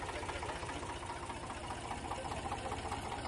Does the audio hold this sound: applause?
no